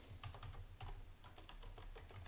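Typing on a computer keyboard while entering an address in a Firefox browser on a CentOS Stream system: a steady run of close, crisp key taps in an irregular rhythm, alone without talk.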